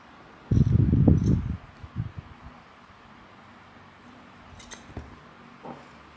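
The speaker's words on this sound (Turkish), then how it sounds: "burada bir zincirimi çekip hemen ipimi kesiyorum" Scissors snipping cotton yarn after a crocheted bag is finished, a close, brief burst of crisp rustling cuts followed by a few softer snips and faint clicks in a quiet room.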